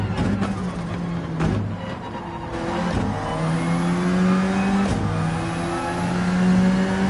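A race car engine on the Fuji circuit in a racing video game revs hard, rising and falling in pitch with sharp gear-shift breaks. It stays loud and close throughout, with brief tire squeal and no talking.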